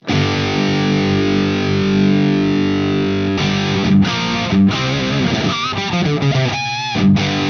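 Heavily distorted electric guitar through a Softube Marshall Murder One amp plugin with Celestion speaker shaping plays sustained chords, then choppy strummed phrases, loud and upfront with no voices.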